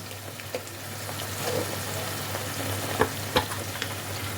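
Ground turmeric and Kashmiri chili powder sizzling in hot oil for a paneer masala: a soft, steady frying hiss near at hand with occasional small pops and stirring clicks over a low hum.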